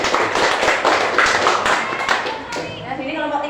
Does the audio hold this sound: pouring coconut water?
no